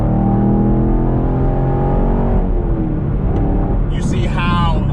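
A sixth-generation Chevrolet Camaro accelerates hard in third gear from about 50 mph with a no-lift shift; a loud, close engine roar climbs steadily in pitch, then eases near the end as a voice briefly speaks.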